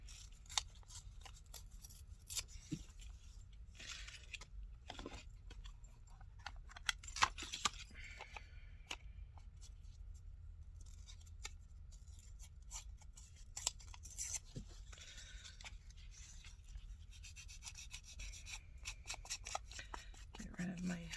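Craft paper is ripped up by hand in faint, intermittent tearing and rustling bursts, with quiet talk in between.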